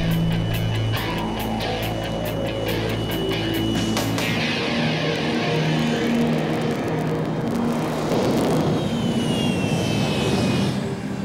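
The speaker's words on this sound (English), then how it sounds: "these jet engines still pack a punch" Jet engines blast a taxi cab with jet wash, a loud, unbroken roar with a rushing blast of air that rises and grows harsher over several seconds, with no talk.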